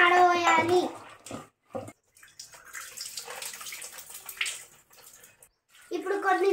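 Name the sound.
washing soaked tamarind with water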